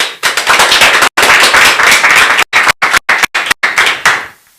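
Audience clapping at a church gathering, loud, dense rapid claps that start and stop several times in short bursts before fading out.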